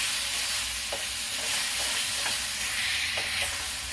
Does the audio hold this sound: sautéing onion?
yes